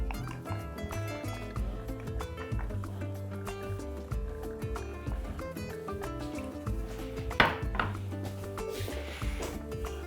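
Two onions sliced into thin feather-shaped strips with a knife for frying, a steady run of close, crisp taps on a board over background music.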